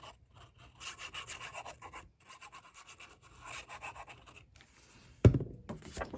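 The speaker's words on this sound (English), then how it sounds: "And go ahead and burnish." Paper being burnished with a bone folder while assembling a handmade mini album, heard as soft intermittent rubbing strokes at close range, ending in a brief louder scrape or tap near the end.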